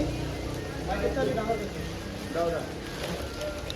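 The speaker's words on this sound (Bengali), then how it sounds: "বৃষ্টিও নেমেছে, 12 তারিখ দিয়ে বৃষ্টি হওয়ার কথা, আর বিশাল বৃষ্টি হচ্ছে।" Heavy rain pouring down steadily, a dense hiss filling the background with a broad, constant wash under passing voices.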